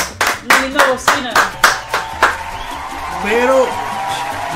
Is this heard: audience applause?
yes